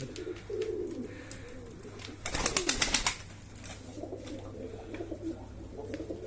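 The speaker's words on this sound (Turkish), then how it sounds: "her yerde, her köşede bir kuş var" Pigeons coo softly and repeatedly nearby in a coop, with a short burst of wing flapping in the middle and faint background noise.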